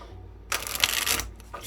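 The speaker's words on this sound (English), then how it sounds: "let me actually go ahead and shuffle it" A deck of thin, flexible cardstock oracle cards riffled in a quick, close flurry of flapping and clicking, followed by a brief second burst.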